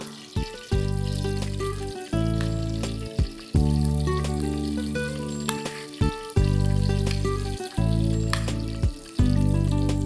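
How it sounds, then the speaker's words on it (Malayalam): Pieces of fish laid one by one into a hot pan, each landing with a fresh surge of loud, steady sizzling; no talking. "ഇനി നമുക്ക് ഈ ചട്ടിയിലേക്ക് മീൻ കഷ്ണങ്ങൾ പെറുക്കി വെച്ചു കൊടുക്കാം"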